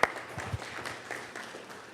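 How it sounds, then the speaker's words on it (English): Scattered applause from attendees at a public policy camp gathering, a short burst of clapping that starts with a sharp clap and tapers off quietly. "I saw someone clapping."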